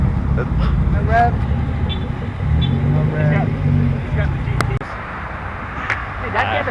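Car engine idling and rumbling at a street car meet, steady low drone with a brief surge before cutting off near the end, while several people chatter loudly nearby.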